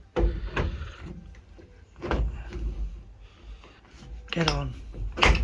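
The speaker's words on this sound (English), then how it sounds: "So that's the driver's door, which I've had down." The driver's door of a Ford Escort Mk2 is swung shut, with a few solid thumps and knocks spread across the moment and a voice speaking around them.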